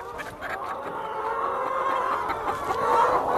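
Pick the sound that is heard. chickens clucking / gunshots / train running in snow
chickens clucking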